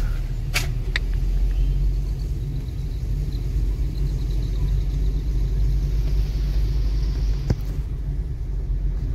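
A car engine rumbles steadily on a first-day driving lesson, a constant low drone from inside the vehicle with a couple of sharp clicks and no talking.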